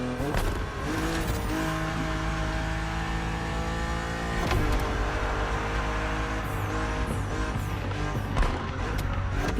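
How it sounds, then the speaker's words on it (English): BMW Z roadster driven in The Crew Motorfest, engine droning and revving steadily with gear changes, tyre squeal and another car passing, loud and continuous. "BMW Z models are what we call roadsters. Two-seaters made for relaxing behind the wheel, appreciating the scenery and the thrill of speed."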